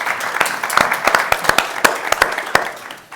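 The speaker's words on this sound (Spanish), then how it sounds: "Un aplauso." An audience at a tribute to a poet during bullfighting-themed events in Albacete breaks into loud, steady applause: dense, close clapping that stays even for a few seconds and then tails off slightly.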